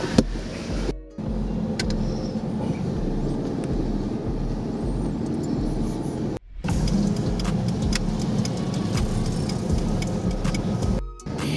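Mitsubishi FTO GP Version R engine held at high revs, a loud, steady drone cut by two short gaps where the throttle lifts before it pulls again, heard close up with no talking.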